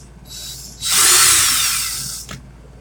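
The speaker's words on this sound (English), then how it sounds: "put drill in reverse" A power drill spun in reverse to back out a screw gives a short whir, then a steady, loud, close whine for about a second and a half before cutting off with a brief click.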